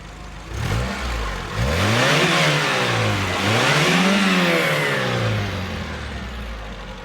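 A 2003 Tata Indica V2's 1.4-litre petrol engine revs up close by in two rising-and-falling sweeps over a steady idle, then settles back to idle, with no voices.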